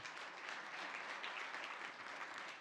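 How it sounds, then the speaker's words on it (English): A room full of guests at a brunch celebrating Black economic achievement applauds steadily, a dense, even wash of many hands clapping that holds at a constant level throughout. "Let's give them a round of applause"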